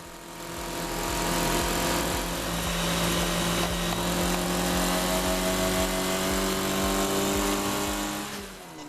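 A Formula Ford race car at Snetterton revs hard to maximum RPM in third and then pulls fourth, the engine note climbing in steady harmonics, loud and continuous with no talk, before dropping off at the gearchange near the end.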